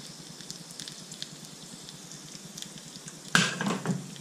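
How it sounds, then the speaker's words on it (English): Clarified butter drips onto fennel with a quiet, close, steady crackling sizzle, rising to a brief louder burst of spitting near the end. "You can see it's dripping through nicely and sizzling on the fennel."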